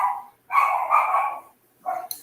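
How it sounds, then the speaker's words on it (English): Small chihuahua dogs bark indoors nearby, a couple of sharp yappy bursts and a longer bark run separated by short silences. "Sorry about my dog."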